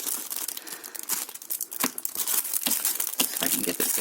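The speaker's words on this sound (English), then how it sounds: "Let's rip that off." Plastic packaging around a Maiwo USB hard drive enclosure is torn and ripped open, giving loud crinkling, crackling bursts in close, irregular pulls with no talk.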